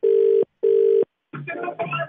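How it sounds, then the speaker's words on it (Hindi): Two long, even ringback tones from an outgoing phone call, each separated by a short silence, are followed by a voice speaking. "निकिता, मैं फोन कर रहा हूँ आपके हस्बैंड"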